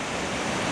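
Ocean waves roll in over rock formations beside a lighthouse at blue hour, a steady, even wash of surf with no distinct breaking crash.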